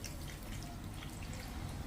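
Water poured onto halved apricots and sugar in a pot for apricot jam, a steady close splashing stream lasting about two seconds, continuous and alone.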